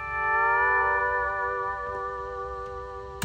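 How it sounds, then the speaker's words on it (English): A country pedal steel guitar sample rings out with long sustained, gliding chords, holding steadily at moderate level before a brief click at the very end; no voices. "The first one is what we call pedal steel."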